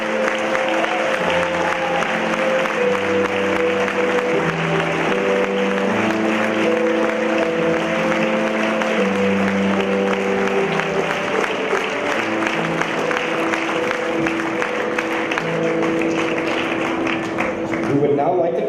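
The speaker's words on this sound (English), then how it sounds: "Please rise so we can applaud you as well." Audience at a Holocaust remembrance ceremony applauding, sustained dense clapping lasting many seconds with steady loudness while sustained musical tones play underneath.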